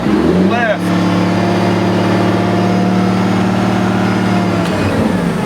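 Wheel loader engine droning steadily as it lifts material, a continuous loud mid-low rumble throughout with a brief shift in pitch near the start and a small change near the end.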